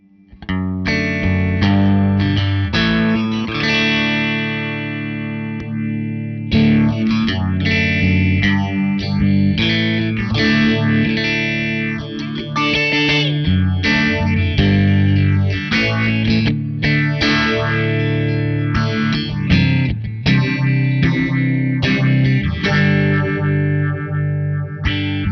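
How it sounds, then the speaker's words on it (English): Electric guitar played through a Castilleja analog optical phaser set to a slow four-stage sweep with no feedback, sustained chords and picked notes gently swirling, loud and close with no talking. "let's just start with a very slow phaser without any feedback, so it's your classic 4-stage phase tone"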